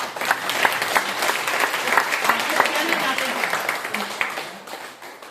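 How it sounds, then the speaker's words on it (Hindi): An audience at an indoor gathering gives sustained, dense applause throughout, many hands clapping at moderate distance, with some voices mixed underneath. "बाकी तालियां चाहूंगा जोरदार।"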